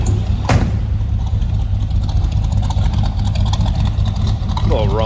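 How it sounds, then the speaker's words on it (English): A 1964 Chevrolet Biscayne two-door sedan's 327 V8 idles steadily from near the rear, its throaty exhaust rumbling continuously and loudly throughout. "A little rumble coming out of that 327. Nice throaty exhaust note."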